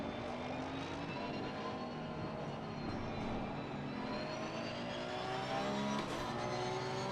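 A GT3 race car engine in Assetto Corsa Competizione at the Nürburgring, a sustained high-revving whine with rising pitch sweeps through gear changes, steady and unbroken with no voices.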